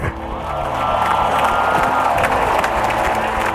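A large crowd of legions cheers for their king and new general, a dense, steady roar of applause, whoops and shouting that swells slightly and holds loud throughout.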